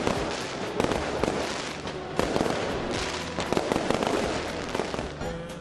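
Fireworks burst at the Christmas celebration in Bethlehem, a dense run of crackling pops and booms at a distance that stays loud and busy throughout, with no speech.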